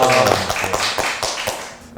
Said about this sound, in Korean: 이렇게 박수.